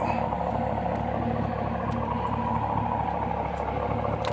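A Mercedes-Benz CL500 runs steadily at idle, a low, even engine hum with a faint clatter that stays constant throughout, heard fairly close with no talking.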